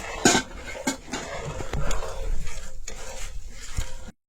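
A thick sweet mixture of milk and coconut is stirred in a pan, giving steady scraping and soft clattering strokes with a faint sizzle throughout, close and moderately loud.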